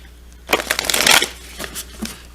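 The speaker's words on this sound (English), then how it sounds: "I'm going to shuffle." Oracle cards from a Sacred Destiny deck are shuffled by hand in a quick, close burst of crisp riffling and sliding flutters, followed by a few softer card taps.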